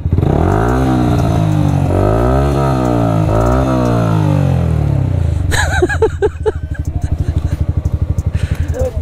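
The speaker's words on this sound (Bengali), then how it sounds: "এটা R15S। হ্যাঁ, আওয়াজ করতে হবে।" A Yamaha R15S motorcycle at a bikers' meet revs its engine up and down in several rising and falling sweeps, loud and close, then settles into a rougher, pulsing idle with some clatter.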